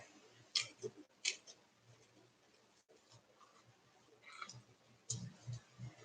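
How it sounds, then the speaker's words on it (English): Dull scissors snip in a few sharp, separate cuts with quiet pauses between them, close and fairly soft, during a craft project making functional art from flea market finds. "these scissors are bad."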